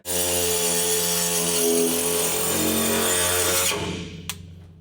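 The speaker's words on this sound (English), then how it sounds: "I'm usually very pro guard on a grinder, and with this saw blade, it seems like the guard is a really good idea." An angle grinder fitted with a saw blade and guard cuts through welds on a corroded navy boat transom, giving a loud, steady high-pitched whine with harsh metallic grinding that runs for nearly four seconds, then cuts off abruptly with a brief clank after.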